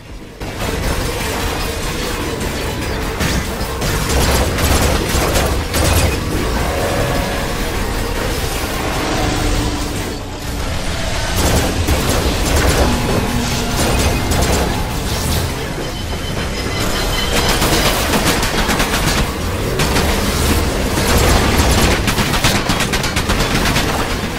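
Dense, loud gunfire and explosions from the PlayStation VR shooter Farpoint, a constant barrage of rapid shots and blasts close up, with no pauses and no voices.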